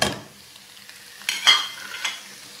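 Semolina with a spoonful of gram flour roasting in a pan for halwa, stirred with a few scraping strokes over a soft dry sizzle, close and moderately quiet with no talk.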